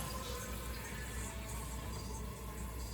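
Water pours steadily into a pot of rice, a continuous close splashing and trickling that holds at an even level throughout with no talking.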